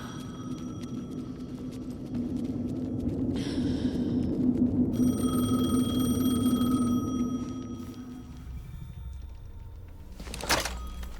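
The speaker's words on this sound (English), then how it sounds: "The phone again." A telephone rings in the Alan Wake 2 video game, a repeated electronic ring pattern over a low droning ambient hum, followed near the end by a brief sharp thud.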